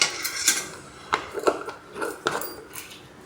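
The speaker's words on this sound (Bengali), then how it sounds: "ঘিটা দিয়ে খন্তা দিয়ে একটু নাড়াচাড়া করে নেব যাতে ভালোভাবে মিক্স হয়ে যায়।" Chicken is stirred with ghee in a pan using a metal spatula. Close scraping strokes and clinks repeat unevenly at a moderate volume.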